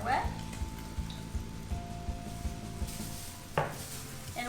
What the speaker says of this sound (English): put your eggs and your milk and your oil in another container and mix it just so the eggs get incorporated